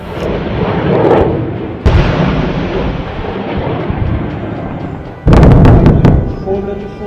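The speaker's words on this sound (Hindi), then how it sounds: "ये आपने मल्टी रॉकेट लॉन्चर सिस्टम किस प्रकार से दागा गया" An Indian Army multi rocket launcher system, Pinaka rockets, firing during an artillery exercise: sustained roaring rumble with a sudden loud blast near five seconds, heard at a distance in open terrain, with talk over it.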